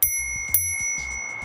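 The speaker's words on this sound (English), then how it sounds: "it also comes with a bell, which I haven't actually fitted yet, but it is the coolest, cutest little bell I've ever seen" The small bicycle bell on an Engwe E26 fat tyre e-bike rings twice in quick succession, close and bright, and each chime's tone lingers after the strike.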